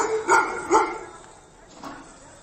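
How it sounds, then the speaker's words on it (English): A pit bull barking in South Africa, two or three loud, close barks in quick succession followed by a fainter, softer bark, with little else around them. "already you hear this mutt barking"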